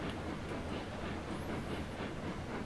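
A locomotive rolls along in the railroad video game Railroads Online, giving a constant rumbling, rattling drone with a brief high squeal partway through, continuous and without talking.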